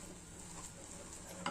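A potato and semolina mixture is stirred in a wok for a crispy snack, giving a soft, steady scraping and faint sizzle that stays quiet throughout, with no talking.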